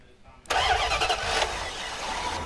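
A car engine started by a hot-wired ignition switch tapped into the battery: a sudden crank catches and roars loudly, then settles into a steady idle, close by.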